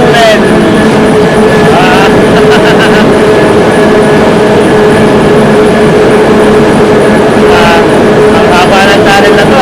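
Yellow Train Jaune riding through the Pyrenees mountains, a steady loud rumble of wheels and carriage with squealing tones and rattling bursts throughout, under people talking.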